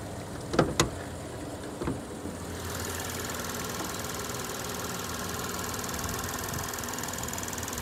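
A 2010 Lexus IS 250 engine idles with a steady, even hum after a couple of brief clicks and knocks at the start.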